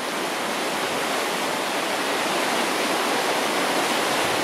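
River water rushes steadily and loudly over a weir on the River Ogmore at Pandy Park in February, a dense continuous roar with no distinct paddle strokes standing out.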